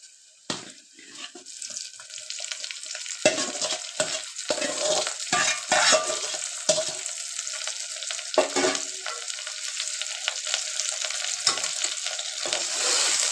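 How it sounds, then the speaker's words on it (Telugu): Okra, onions and green chillies sizzle and get stirred in a pan, with scraping and clattering spatula strokes over a steady frying hiss, close and fairly loud with no talking. "ఎర్రగడ్డలు పచ్చిమిర్చి బాగా వేపుకున్న తర్వాత ఇప్పుడైతే ముందుగా వేయించి పెట్టుకున్న బెండకాయ అయితే వేసుకుందాం"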